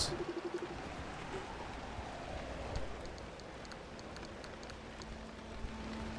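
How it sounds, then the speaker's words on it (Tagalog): Steady rain drumming in the survival driving game Pacific Drive, a continuous hiss of drops on surfaces with a few sharper ticks and a faint low hum underneath. "Sa sobrang ingay ng ulan."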